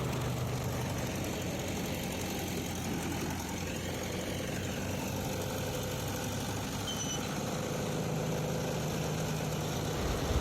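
Tractor engine running steadily while hauling a trolley loaded with wheat, a continuous low mechanical drone at moderate distance with no talk, even in level throughout.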